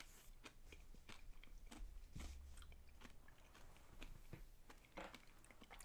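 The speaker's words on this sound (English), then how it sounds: "Sorry if you guys can hear me chewing." Someone snacks close to the microphone, soft irregular crunches and chewing clicks repeating throughout, faint against a quiet background.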